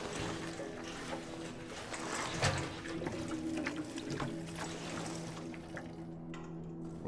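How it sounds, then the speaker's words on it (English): Liquid pouring steadily into a tank in a video game, a continuous trickling, gurgling flow heard close and moderately quiet over a low mechanical hum, with no talk. "how much gasoline can we pour into this sucker now?"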